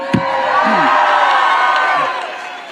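A large rally crowd in Macon cheering and whooping for a congressman taking the stage, a loud swelling roar with shouts rising over it, fading slightly at the end.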